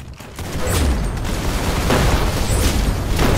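Gunfire in the Roblox shooter Arsenal rattles in a loud, dense barrage of rapid shots and booms, continuous and close for the whole stretch.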